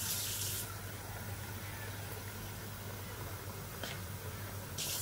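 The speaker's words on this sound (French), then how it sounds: "elle met de l'eau et elle recouvre la viande." Water poured into a cooking pot to cover meat for a tajine, a steady rushing and splashing that runs throughout, with a low hum underneath and a brief higher splash near the start and end.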